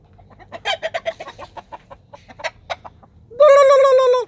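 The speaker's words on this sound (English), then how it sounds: "This is my big gobbler." A turkey gobbler makes a run of short clucking calls, then lets out a loud, sustained tonal cry close by.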